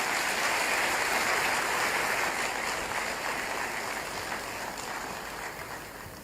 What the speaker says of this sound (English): another round of applause for His Excellency John Dramani in Mahama.